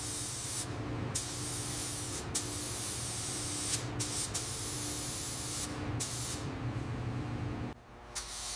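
A spray gun lays a dark navy base coat on a 1930 Ford Model A part in a series of sustained hissing bursts, each broken by brief pauses, close and fairly quiet, with no voices.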